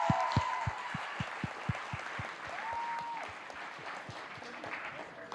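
An audience at a cultural presentation event in Happy Valley-Goose Bay claps in a steady, rhythmic patter that carries on throughout, with a faint voice or tone briefly over it.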